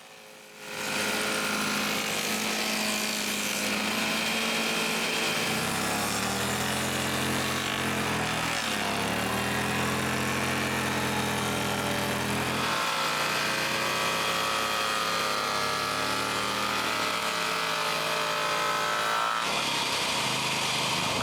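A power tool cuts rabbets into wooden boards with a loud, continuous whine that shifts in pitch as it bites through the wood over about twenty seconds.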